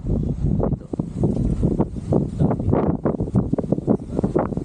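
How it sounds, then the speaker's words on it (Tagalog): Gusty wind buffets the microphone at a wide open campsite near a candle monument, rough rumbling bursts rising and falling continuously, loud and close. "Mahangin."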